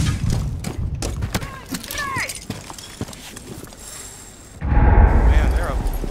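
A grenade goes off in the game Rainbow Six Siege as a sudden loud, low-heavy blast late in the clip, after a stretch of footsteps, clatter and in-game voices.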